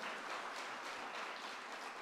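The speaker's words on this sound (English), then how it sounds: "Can we have a big round of applause for our sponsors?" Audience applause at an International Women's Day celebration, thanking the event sponsors: a steady, dense wash of many hands clapping at once, fairly faint and distant, with no voices over it.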